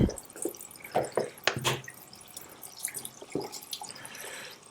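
Water from a spray or bottle rinses shampoo from hair after a hair transplant, producing irregular close splashes and drips in short bursts, with quieter trickling afterward.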